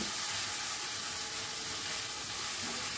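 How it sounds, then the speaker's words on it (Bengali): Soy sauce and chopped green chillies frying in a pan, a dense, steady hiss and sizzle filling the whole moment without any pause, close and fairly loud. "দিয়ে আবারও 30 সেকেন্ড মতো একটু নাড়াচাড়া করে নিচ্ছি"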